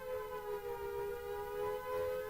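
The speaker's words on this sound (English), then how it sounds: "At the sound of the siren, vehicles are halted, and occupants, as well as pedestrians, are required to take shelter." A civil defense air raid siren sounds a loud, sustained wailing tone that holds steady throughout, with no voices over it.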